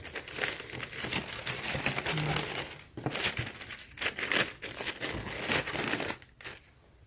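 Tissue paper crinkles and rustles up close while Nike Air Force 1 Low Lunar New Year sneakers are unboxed, in a run of quick, crisp handling bursts with brief pauses and no talk.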